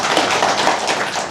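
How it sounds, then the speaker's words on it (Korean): A church congregation claps together for an elderly deaconess honoured for copying and reading the whole Bible, a dense steady patter of many hands close and loud, without talk over it. "우리 한번 박수 한번 하겠습니다."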